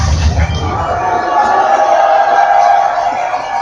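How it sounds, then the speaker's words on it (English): Crowd at a York Revolution minor-league baseball game against the Bridgeport Bluefish cheering and rising to its feet, a steady, loud roar of many voices with babble throughout. "the York Revolution crowd gets up on their feet"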